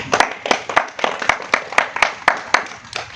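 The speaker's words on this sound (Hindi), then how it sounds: "बजाओ ताली।" Audience clapping at a village gathering: a small group claps in a regular, evenly spaced rhythm, each sharp clap distinct and close, about three per second, with little else beneath.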